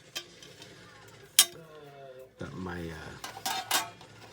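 A small metal frying pan gives off sharp clanks and knocks as it is handled, with a ringing tap near the start, a loud clank, then a clatter of rattling metal. A person speaks briefly.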